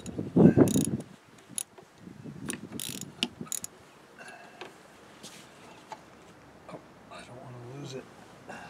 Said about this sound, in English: Using the wobbly universal style socket.